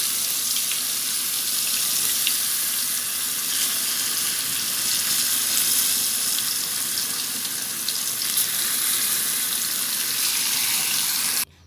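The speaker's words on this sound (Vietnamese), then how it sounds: "bây giờ mình đã chiên xong rồi nè các bạn" Steady hissing crackle of tofu skin frying in very hot oil, loud and close, continuing evenly throughout before cutting off at the very end.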